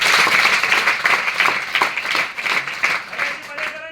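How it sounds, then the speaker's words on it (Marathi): Students in a school gathering in Beed district clap together in sustained applause, a dense rattling crowd of claps that stays fairly steady and slowly thins toward the end. "टाळ्या वाजवा तिच्यासाठी"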